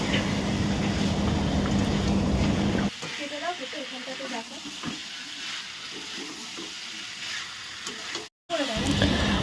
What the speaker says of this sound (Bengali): তো মাংসটা এখন ভালো মতন কষিয়ে নিচ্ছি।